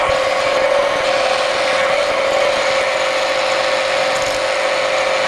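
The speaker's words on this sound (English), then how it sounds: "First need to drill these holes" A power drill bores holes into a basket-hilt rapier sword handle, a continuous high whining tone with steady motor drone, loud and close, running without pause until it cuts off abruptly at the end.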